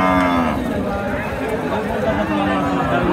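Cattle at a busy village livestock market in Bangladesh, with a cow lowing among the herd while the crowd murmurs and people talk nearby.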